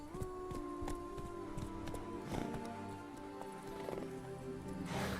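The horse Roach gallops in The Witcher 3: Blood and Wine, its hooves clip-clopping in a rhythm under a steady bed of game music, with an occasional faint neigh.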